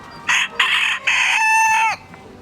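A village rooster crows loudly and close by, a broken call of a few short bursts ending in a long sustained note.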